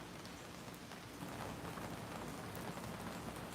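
Steady, dense patter of rain falls continuously, a soft even hiss of drops with no other sounds standing out.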